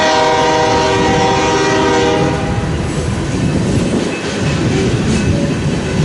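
A CSX freight train passes on the Sioux City subdivision near Fremont, its horn blaring loudly at first before giving way to a heavy rumble and rattle of rolling cars close by.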